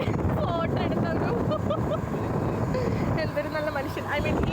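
A motorboat cruises toward the Blue Grotto off Capri, its engine a steady broadband rumble mixed with wind buffeting the microphone and water rush, with someone talking over it throughout.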